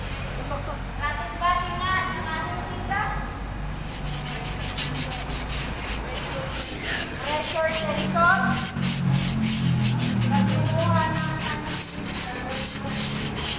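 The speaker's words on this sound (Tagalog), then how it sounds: "sa kabilang side at niliha yung brake drum" Sandpaper rubbing a car brake drum in rapid repeated back-and-forth strokes, loud and close, continuing throughout while people talk over it.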